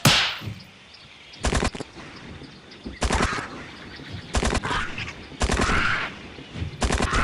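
Rifle gunfire in the Dino Hunter: Deadly Shores video game, several sharp rapid bursts of shots spaced a second or so apart over a steady ambient game background, loud and close, with no talking.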